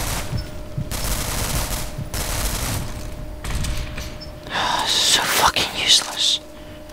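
Weapon fire in the shooter game Nuclear Dawn comes in several noisy bursts, with short gaps between volleys and a louder, denser rattle near the end, under faint voices.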